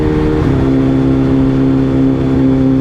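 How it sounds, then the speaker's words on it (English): A BMW S1000RR sport bike with a Brentuning Alpha-N ECU flash is held at high revs for a launch. Its engine makes a loud, steady, close droning tone with a brief dip in pitch early on. "I suck at launching this bike."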